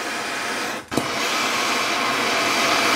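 A torch roars steadily while heating transmission case bolts on a Tremec TKO 3550, 500 or 600 five-speed to melt anaerobic thread locker, with a brief drop and flare in the hiss partway through, then a continuous loud rush.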